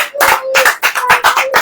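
Hands clapping in a church congregation, a fast loud run of roughly rhythmic claps blending into one another, close and bright.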